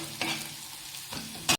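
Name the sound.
onion and garlic frying with spices in a pan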